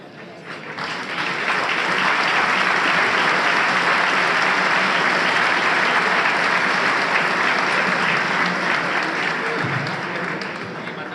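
An audience at an economics conference applauds, a dense, sustained wash of clapping that rises quickly and holds for about ten seconds without fading.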